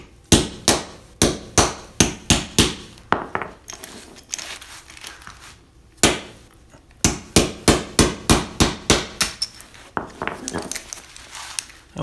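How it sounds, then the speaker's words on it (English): Sharp metallic hammer blows drive a punch into the hardened steel shackle of a Viro bike lock, landing in rapid rhythmic bursts of about a dozen ringing strikes, with brief pauses between the volleys. "So let's try to hit it on the other side of the shackle now."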